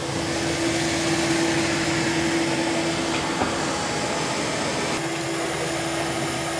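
A NARWAL Freo X Ultra robot vacuum and mop runs steadily indoors, a continuous close whooshing hiss with a faint steady hum, unbroken and with no talking.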